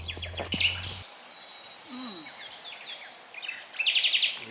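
Birds chirp and sing in scattered bursts, with a quick trilling series near the end, over quiet outdoor ambience.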